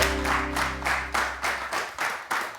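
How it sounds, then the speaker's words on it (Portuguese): Studio audience applause on a Portuguese afternoon television talk show, a short burst of clapping in surges with a low hum underneath at first. "Um grande aplauso para o professor Carlos Café."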